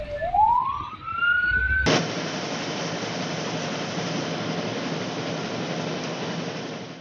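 A fire truck siren sounds at a fire scene in Indonesia, a rising wail that breaks into a loud, steady roar of traffic and engine noise, close and continuous.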